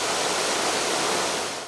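Water pours through the eight opened sluice gates of the Daduroya reservoir in Sri Lanka during cyclone floods, a steady, dense roar of rushing flow, loud and continuous with no voices.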